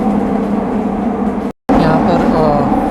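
Inside a moving metro train, a loud steady rumble and roar of wheels and car noise fills the space, with one brief dropout partway through and no speech.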